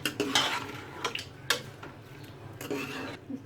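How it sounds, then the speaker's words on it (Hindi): A spoon scrapes and knocks against a pot while chicken and ridge gourd curry with turmeric and a little water is stirred, giving irregular clinks and scrapes close by, with a few sharp taps. "और मिक्स कर लें।"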